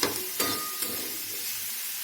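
Ginger paste is stirred into food frying in a pan, with a few quick clinks of the spoon near the start over a soft, continuous sizzle.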